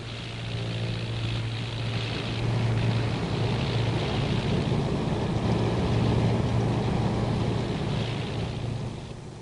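A propeller training aircraft lands with a three-point touchdown, its engine droning steadily and fairly loud throughout, swelling slightly in the middle before easing off.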